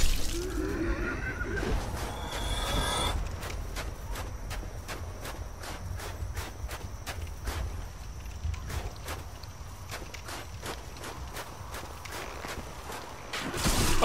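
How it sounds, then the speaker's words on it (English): Footsteps in the video game Dark Souls Remastered, a rapid regular series of clattering hoof-like steps running through most of the span, close and fairly loud over a low ambient rumble, with no talk. "I hear footsteps."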